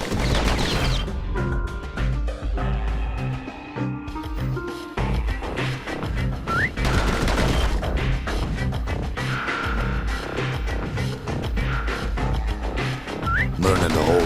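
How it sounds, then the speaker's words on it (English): Rapid pistol fire in the action game Bastion: quick successive shots crackle over a dense, steady bed of game music and effects, with occasional whistling swoops throughout. "Those pistols could spit out rounds just as quick as you could pull the trigger."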